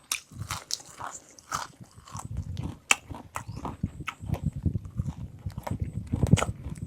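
Crunchy food chewed up close during a meal of Mon-style eggplant curry with dried fish, with irregular crisp bites and crunches repeating steadily for several seconds.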